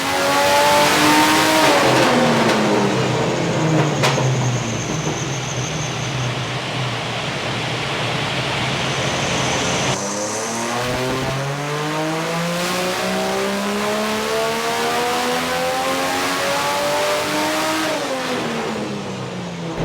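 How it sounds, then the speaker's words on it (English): A turbocharged Barra engine in a Land Cruiser 80 roars on a dyno at 13 pounds of boost. It revs up in long rising sweeps, drops back and climbs again, loud and close, with a constant rushing roar beneath. "Dyno run 5. Let's see if we can make some power now."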